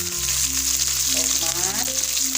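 Sliced chili hits hot oil in a frying pan for water spinach stir-fry, giving a steady close sizzle with a brief stirring scrape partway through, with no talk.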